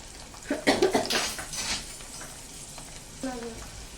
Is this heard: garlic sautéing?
yes